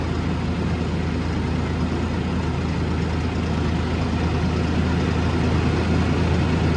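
A tractor engine straining while lifting a heavy crate, a loud, steady low rumble that holds level for the whole stretch with no voices over it.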